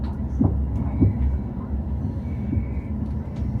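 A steady low rumble of a passenger train rolling along the rails on the Leeds line near Bridlington, with a few soft clunks near the start and faint background murmur.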